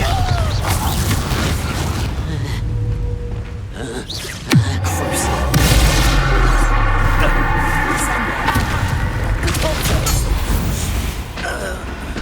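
A Bombarda spell explosion in the video game Hogwarts Legacy, a single sudden boom partway through within loud, busy game noise and effects, with a voice heard around it.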